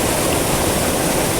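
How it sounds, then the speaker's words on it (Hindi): Water rushes steadily out of a Pan Chakki water mill in Bumburet, Kalash, after turning its millstone, a loud continuous roar up close that stays unbroken from start to end. "ये चक्की को चलाने के बाद ये पानी फिर बाहर निकल आता है दोबारा।"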